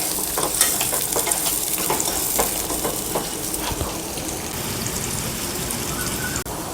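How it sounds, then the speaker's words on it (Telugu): Sliced onions and green chillies sizzle in two tablespoons of hot oil in a pan while a spatula scrapes and stirs in quick strokes, the frying hiss holding steady after the stirring eases. "ఆనియన్స్ ఇలా లైట్ గోల్డెన్ కలర్ వచ్చే వరకు వేయించుకోవాలి"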